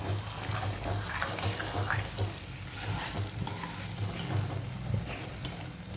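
A spoon stirs mixed vegetable curry in a pan with oil separating, dhaba style, giving steady scraping and a soft sizzle under a constant low hum throughout.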